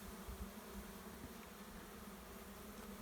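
Honey bees hum around an established hive, a steady, low, continuous buzz of many insects, quiet and unbroken, with no talking.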